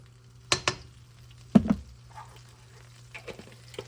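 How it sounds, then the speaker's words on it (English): Vegetables and garlic frying in olive oil in a pan, a soft sizzle broken by a few sharp clatters and scrapes as ingredients are stirred, with a low steady hum running underneath. "Same pan, we're going to do more olive oil, more garlic, and we're going to start loading in our vegetables"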